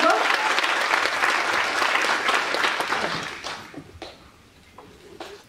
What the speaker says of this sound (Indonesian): kita kasih tepuk tangan dulu dong Mas Jopin